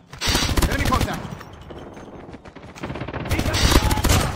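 Rapid automatic gunfire from a deployed sentry gun in the mobile shooter Call of Duty: Mobile, loud dense bursts at the start and again near the end with a quieter stretch between.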